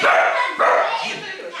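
A dog barks in two short, close bursts, the second coming about half a second after the first, with people talking over it.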